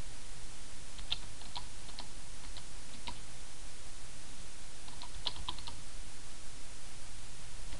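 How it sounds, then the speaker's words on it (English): A web address typed on a computer keyboard, steady light key clicks in small irregular bursts, close and clear over a constant hiss of background noise, with no talking. "And this is what you're going to type in."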